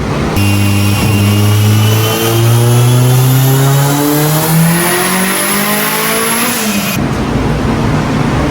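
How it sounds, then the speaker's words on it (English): A big-block Mitsubishi Evo 9 makes a loud, close test pass, its engine revving steadily upward through a long rising pull, then cutting off sharply near the end. "that was the first rip, but just a little baby pass. I didn't rev it out too much."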